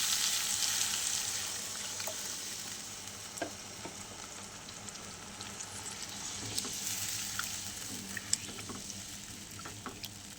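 Water hits a hot pan for a pangas fish curry, setting off a loud steady hiss and bubbling sizzle that continues with scattered ticks and pops, close up and without talk.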